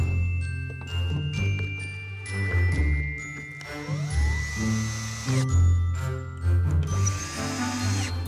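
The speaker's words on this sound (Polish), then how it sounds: "Deski skręcamy wkrętami tak," A power drill drives screws into wooden boards, a whining motor rising and falling in short bursts with some clinking, close and fairly loud throughout.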